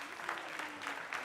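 A short burst of steady clapping from a group at a school quiz competition, continuous and moderately loud throughout.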